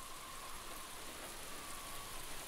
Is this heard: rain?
yes